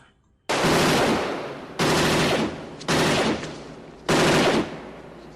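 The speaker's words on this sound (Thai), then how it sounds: "ก่อนที่เสียงปืนแผดขึ้นสนั่น ท่ามกลางความเงียบของราตรี" Four loud bursts of rapid gunfire at night, each a dense rattling volley with a decaying tail, separated by short gaps.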